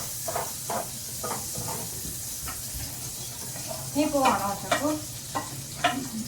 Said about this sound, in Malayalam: ഈ ഉള്ളിയും കൂടി ഇട്ട് കൊടുത്ത് ജസ്റ്റ് ഒന്ന് എന്താ വരട്ടിയെടുക്കാം